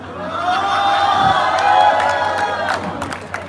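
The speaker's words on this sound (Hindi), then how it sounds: "जो अभी जिन्होंने तालियां बजाई है" At an open mic comedy show, a crowd breaks into loud applause and cheering with whoops and shouts. The noise holds strong for a few seconds and then thins out.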